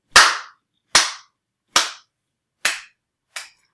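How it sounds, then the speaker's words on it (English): Five sharp explosive bangs sound from the rocket launcher in the video game Fortnite, evenly spaced about a second apart. Each one cracks loudly and decays quickly, and the last is slightly weaker than the rest. "Rocket launcher straight to the face"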